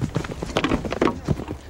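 Cavalry horses charge into a shield wall, their hooves thudding in a rapid, irregular clatter with heavy impacts. The sound is close and busy and carries some crowd-like noise, though nobody speaks clearly.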